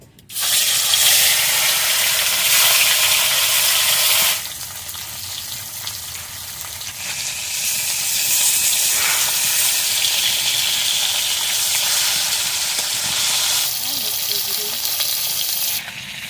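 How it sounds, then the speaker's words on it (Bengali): Chara pona fish fry in hot oil in a rustic village kitchen with a loud, dense sizzle that is strongest at first, eases for a while, then swells again with occasional spattering bursts. "মাছগুলো ভেজে নেবো, তাই তেল দিয়ে দিচ্ছি। এবার মাছ কটা ভেজে নিই।"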